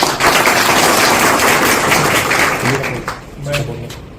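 A loud, dense roar of clapping fills a student union gathering in Telangana, holding steady before tapering off as a voice speaks over the end.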